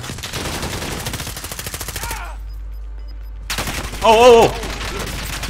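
Rapid automatic gunfire rattles in the video game Warzone, a dense burst of shots, a pause, then more firing, with a player shouting excitedly over it.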